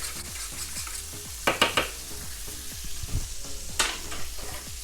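Food seasoned with pepper is stirred in a sizzling frying pan: a steady hiss under repeated spoon scrapes, with a few sharper metallic knocks against the pan, close and unvoiced.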